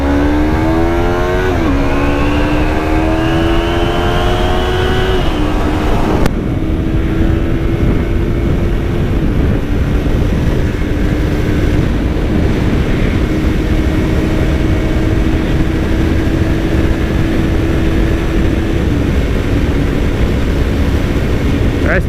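A 2016 Yamaha MT-03 motorcycle engine runs flat out at top speed, a loud, sustained high-pitched drone with heavy wind rush. The pitch climbs early, breaks at a gear change, then holds steady.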